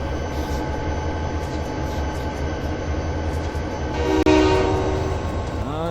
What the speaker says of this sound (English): The train takes a little bit to stop.